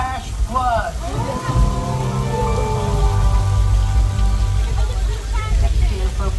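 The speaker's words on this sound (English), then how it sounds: "Now we create this rain effect using high power sprinklers that shoots the water straight up into the air" Artificial rain from high-power sprinklers shooting water straight up at the Universal Studios Hollywood studio tour, a steady loud hiss and patter of falling water heard close, with crowd voices and talk over it throughout.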